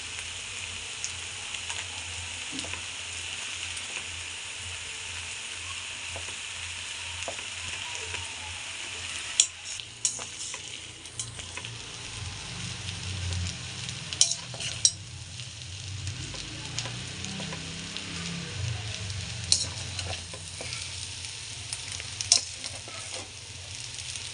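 Butter sizzles and fries steadily in a hot pan while vegetable noodles are cooked, with occasional stirring clinks and scrapes over a continuous crackling hiss, no talking.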